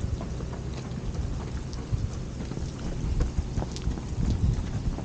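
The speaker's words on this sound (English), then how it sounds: "Well, it's raining." Steady rain pours during a storm at a lakeside campground, a dense continuous hiss with low rumbling wind underneath and occasional louder drops.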